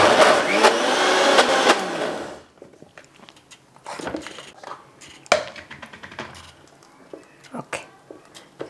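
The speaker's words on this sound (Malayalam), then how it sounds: "അപ്പോൾ ഇതിനി നമ്മളിങ്ങനെ തന്നെ ഓഫ് ചെയ്ത് നന്നായിട്ടൊന്ന് ഗ്രൈൻഡ് ചെയ്തെടുക്കണം" A mixer grinder churns soaked urad dal into batter for Kerala-style uzhunnu vada: a loud, dense whirring roar runs for about two seconds, then cuts off, leaving scattered quieter clicks and kitchen handling noises.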